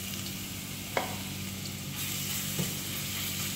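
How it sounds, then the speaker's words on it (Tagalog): Garlic sizzling in hot cooking oil for garlic fried rice, a steady close crackling hiss broken by a couple of brief clinks. "Papainit ng mantika. Ayan, lagay ko ng aking bawang."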